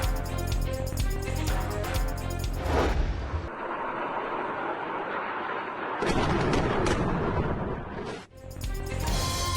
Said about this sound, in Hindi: इलाका धमाकों से गूंज उठा।